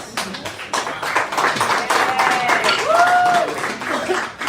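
A crowd claps and cheers in a played-back recording, dense applause running steadily for several seconds with a faint whistle-like tone rising through it.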